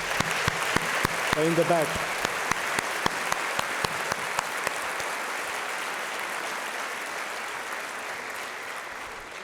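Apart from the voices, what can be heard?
audience applause at a graduation ceremony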